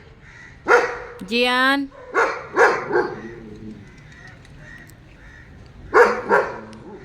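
A dog barks in sharp separate bursts, a few in quick succession and then a later pair, heard from a balcony beside a neighbouring flat, with a voice calling a name among the barks.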